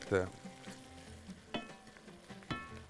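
Quiet sizzle of onion and fresh tomatoes frying in a pan, broken by a few sharp clinks of a utensil stirring against the metal.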